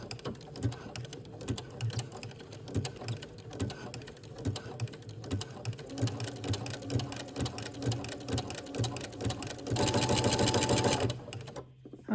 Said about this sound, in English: we will be sewing a 3/8 inch seam allowance for the ties